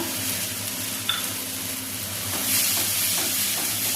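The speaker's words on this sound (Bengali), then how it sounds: "এখন গুলে রাখা গুঁড়ো মশলাগুলি দিয়ে দেব" Ground spice paste dropped into a hot pan sizzles with a steady frying hiss, close and moderately loud, with faint clinks of stirring and a slight swell in intensity partway through.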